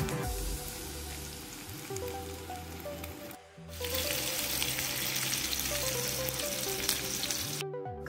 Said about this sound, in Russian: Пока жарятся котлеты,